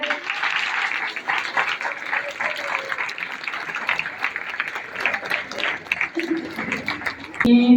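Congregation applause at an offline Sunday church meeting led by a pastor, a steady patter of many hands clapping throughout, with a voice briefly heard near the end.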